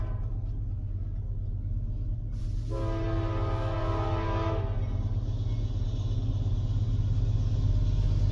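A CSX freight train rumbles steadily throughout with a loud, sustained horn blast in the middle, heard fairly near over continuous rail noise.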